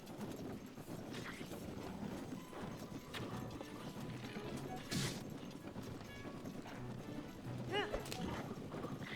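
Rhythmic hoofbeats of a galloping horse in Zelda: Tears of the Kingdom patter along amid game noise, with a few sharp impacts and a brief whinny-like squeal near the end.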